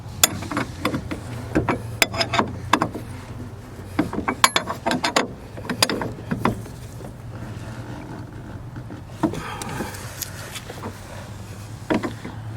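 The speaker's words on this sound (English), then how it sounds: "We take our 15/16 inch wrench and just snug down the big bolt." Wrench snugging down a big fuel filter bolt on a MasterCraft boat's Indmar Ford 351 engine: close, irregular metallic ratcheting clicks and clanks in clusters, with quieter scraping between them.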